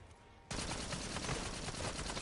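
Sustained automatic gunfire from a weapon with heavy recoil in Black Ops 7 Zombies, a loud continuous burst of rapid shots that starts abruptly after a brief quiet moment and keeps rattling without pause.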